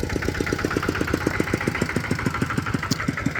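A small engine on a homemade Isan e-taen farm vehicle runs at a steady idle, with rapid, evenly spaced putts thumping close and loud throughout, and no voices over it.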